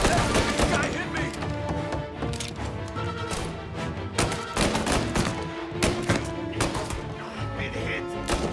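Dense gunfire in Mafia: Definitive Edition, rapid loud bursts and single shots crowding one another over constant combat noise, with voices calling out between volleys.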